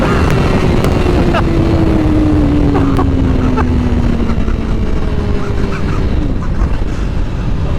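A 2021 Honda CBR1000RR-R Fireblade SP race bike engine screams at high revs above 10,000 RPM, a loud continuous roar with a slowly falling pitch as it passes or shifts, heavy wind noise throughout.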